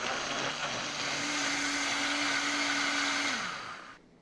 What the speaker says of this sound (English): adding these to the blender